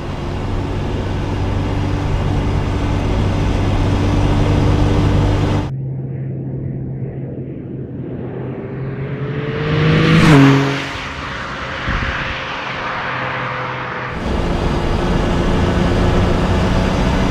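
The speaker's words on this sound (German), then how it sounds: "Er dreht hoch, aber er hat überhaupt keine Vibration. Ich fahre jetzt gerade im zweiten Gang, knapp 4000 Touren." A 1993 Jaguar XJ220 engine revs while driving in second gear, a steady loud drone that drops for a stretch mid-clip, then rises with a brief surge before returning to full roar.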